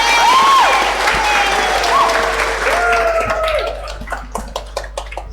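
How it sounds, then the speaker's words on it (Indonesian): Congregation applauding at a children's Mass, a sustained wash of clapping that fades toward the end into scattered individual claps, with sung or spoken voices weaving above it. "Kita beri tepuk tangan untuk mereka."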